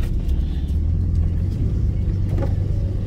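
A roughly 40-year-old Jaguar XJS Pre HE on a test drive produces a deep, steady engine rumble heard from inside the cabin, low and continuous with faint road noise and a brief brighter swell near the end.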